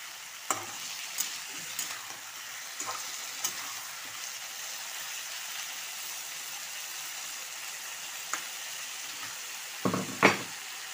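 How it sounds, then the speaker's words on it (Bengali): Vegetables sizzle and fry steadily in a pan, with scattered scraping clicks from stirring and a louder clatter near the end. No one speaks. "সবজিগুলো ভাজা হয়ে গেছে"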